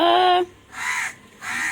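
Crow caws sound twice in a row, loud and close, alone after a brief tonal call at the start.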